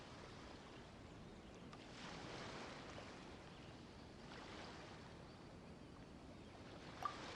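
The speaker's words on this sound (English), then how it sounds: "Oh, and the sound of the waves." Ocean waves roll in a harbor scene in Genshin Impact. A steady, soft wash of surf swells and recedes gently at low volume, with no voices.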